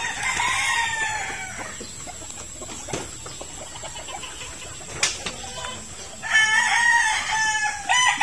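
Rhode Island chicken crowing nearby, two loud drawn-out crows at the start and end with quieter clucks and rustling between.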